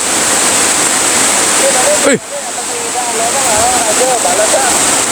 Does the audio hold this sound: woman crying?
no